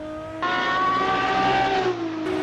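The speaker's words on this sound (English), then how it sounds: "Despite the magnificent engine noise, it doesn't seem all that great, does it?" A road car's engine revs and accelerates on a racetrack, a loud sustained tone that jumps up sharply after a brief lower hum, then holds steady before shifting near the end, with no voices.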